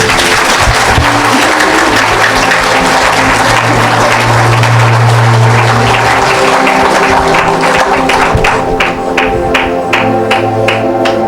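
A church congregation applauds loudly and continuously during a service, with dense sustained clapping, a steady low hum underneath, and sharper individual claps standing out toward the end.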